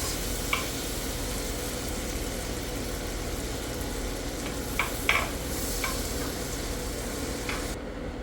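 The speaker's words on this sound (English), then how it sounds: "And now we are going to let the butter melt." Butter and a little oil melting in a hot pan give a steady, even sizzle throughout, with a few faint clinks and scrapes near the end and no talk.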